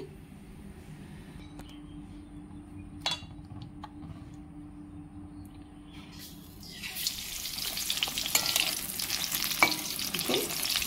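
Pumpkin fritters (beguni) coated in gram-flour batter go into hot oil in a wok, bringing a sudden loud burst of hissing sizzle after a quiet start with a few faint clinks.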